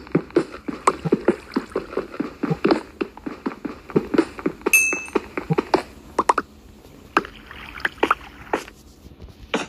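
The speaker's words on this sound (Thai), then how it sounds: "เนี่ยเสียงน้ำไหลอ่ะเนี่ยเสียงน้ำไหล" Flowing water in the Minecraft survival game, heard as a light watery rush under a string of sharp, rhythmic clicks and taps from gameplay, with a brief high chime partway through.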